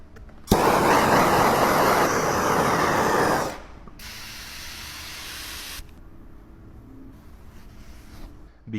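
Window tint film being wetted with spray solution, a loud continuous hiss lasting about three seconds, then a quieter steady spray burst, close up with no talk.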